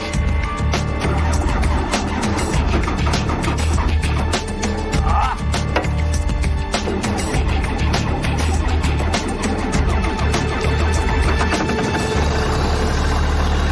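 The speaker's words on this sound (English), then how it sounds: "let's see if it'll crank" A backhoe engine on a swamp logging job runs loud and close with a steady, rough mechanical roar that continues unbroken from start to finish.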